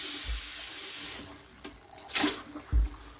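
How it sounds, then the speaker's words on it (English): Running tap water rinses a cast iron skillet, a steady soft wash of flow with a couple of splashing bursts and low thumps near the end, no talking. "You're going to rinse it out real good."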